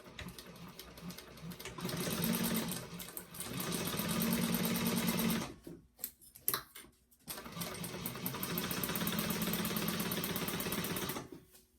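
Sewing machine stitching a Solangel bag, whirring in two long continuous runs split by a brief pause with a few clicks and handling sounds.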